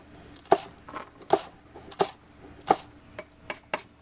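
A knife chops sweet onion on a board in about seven sharp, close knocks at an uneven pace, with quiet pauses between them.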